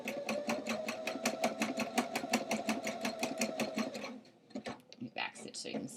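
A sewing machine runs a steady stitching burst along a jeans hem for about four seconds, close and loud, then stops and gives a few short clicks and bumps of handling.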